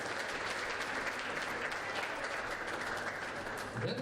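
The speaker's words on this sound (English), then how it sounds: "Give her a big applause" Steady, fairly faint applause from spectators at the World Junior Squash Championships finals awards presentation, a continuous wash of clapping with crowd murmur.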